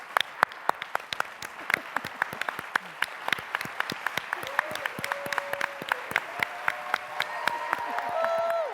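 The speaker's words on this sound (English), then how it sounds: "We should stand up and applaud" Applause from a seated audience honouring a speaker at a diversity, equity, inclusion and leadership event, dense steady clapping that builds through the clip while a few voices call out and talk beneath it.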